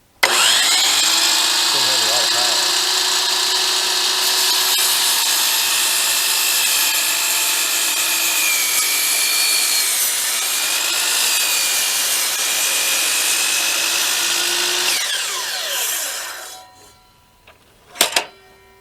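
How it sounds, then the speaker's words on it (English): A DeWalt DWS780 12-inch sliding miter saw cuts through oak, a loud sustained whine with a steady grinding rasp through the wood, then spins down and stops near the end. "This is the DeWalt DWS 780 12-inch cut, and it is a sliding saw."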